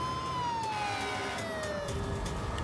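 A fire engine siren wails faintly in the distance, one long tone sliding slowly downward in pitch over a steady background rumble.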